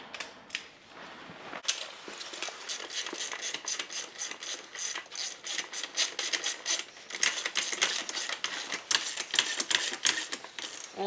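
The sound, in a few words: wrench and socket ratcheting on a pit bike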